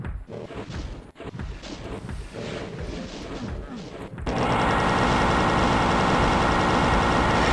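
Gunfire and combat noise from a fight against the cyberdemon in Doom, E1M5 Base Ganymede, dense and continuous, turning into a loud, steady wall of layered blasts and rumbling in the second half.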